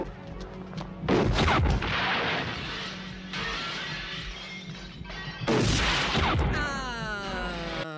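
A loud, sharp gunshot from the 1982 film Blade Runner rings out amid crashing, shattering impacts and booming movie effects, followed by a ringing, whining tail; no one speaks over it.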